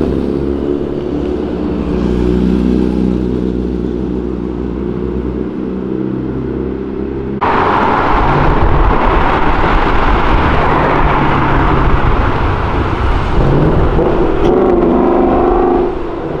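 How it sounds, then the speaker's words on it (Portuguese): Mercedes C63 V8 engine roaring along an avenue, a loud sustained drone that jumps to a harsher, fuller growl partway through as it accelerates close by. "Esses V8 é bonito demais o ronco"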